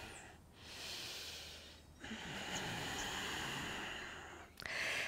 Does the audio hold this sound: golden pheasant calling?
no